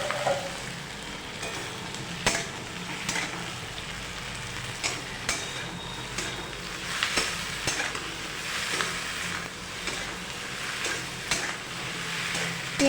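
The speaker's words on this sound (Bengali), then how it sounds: "পেঁয়াজের সাথে ভেন্ডিটা ভালো করে নেড়ে নিয়ে" Okra and chopped onions sizzle softly in a pan while a spoon scrapes and clicks through them at irregular intervals, with quiet, steady frying beneath.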